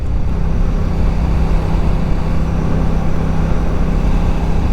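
A Benelli Tornado 550 motorcycle engine drones steadily and loud, a constant low rumble that holds without change or pause, heard alone with no voices.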